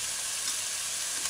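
Tomato paste sizzles steadily in about two tablespoons of hot oil for a minced-meat tarhana soup, giving a short, even hiss with no breaks.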